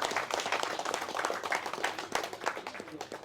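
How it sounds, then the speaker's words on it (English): Small audience at a model railway convention clapping steadily for a presenter, a dense patter of hand claps lasting the whole moment at moderate volume with a few voices mixed in. "Give him a bit of round of applause."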